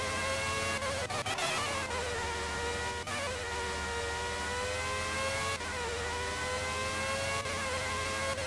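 A Formula One car's engine screams steadily in F1 97, its pitch dropping sharply at each gear change before climbing again, loud and continuous throughout.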